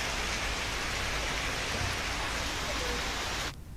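Heavy rain during a monsoon downpour, a dense, loud and constant roar of falling water that cuts off abruptly at the end.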